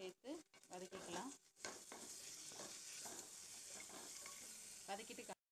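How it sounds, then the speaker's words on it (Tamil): Chopped green chili and ginger garlic paste sautéing in a pan, a continuous sizzle broken by scraping stirs and clinks of a spoon against the pan, close and fairly loud. "அதையும் ஒரு ஸ்பூன் இஞ்சி பூண்டு பேஸ்ட்டையும் சேர்த்து வதக்கிக்கலாம்."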